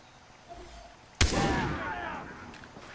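A single loud gunshot in Far Cry 3 cracks sharply and then rings out in a long, fading echo over quiet game ambience.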